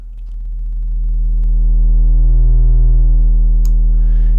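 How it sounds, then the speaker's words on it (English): A low sine test tone, processed through the Airwindows SquareRoot plugin, swells in level and gains stacked harmonics as it grows louder, then holds as a steady, buzzy, distorted hum. "Sine wave."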